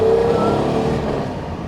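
A 1968 Mercedes-Benz 250 SL California Coupe cruises along a back road, its engine droning steadily from inside the cabin and easing off slightly toward the end.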